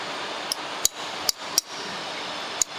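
A steel chisel is hammered into a crack in a terrazzo floor, giving five sharp, ringing metallic strikes at uneven intervals over a quiet background.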